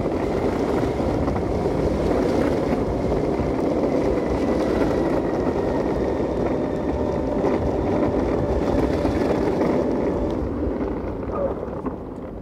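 An electric skateboard on 83mm wheels runs at full throttle up a hill, producing a continuous rolling roar and whir mixed with strong wind buffeting on the microphone, steady and loud from start to finish.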